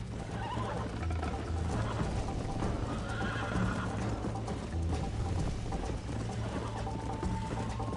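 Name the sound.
horse neighing and throwing its rider in Red Dead Redemption video game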